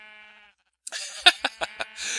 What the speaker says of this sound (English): here we have a white sheep here